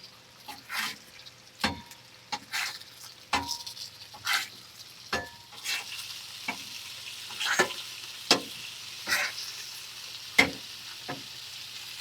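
Bacon sizzling on a Masterbuilt Gravity Series griddle alongside breakfast skillet ingredients, a steady fat hiss broken by repeated scraping and stirring strokes of a spatula, close and fairly quiet, with no voices.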